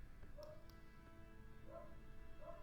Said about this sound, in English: The dog is barking again.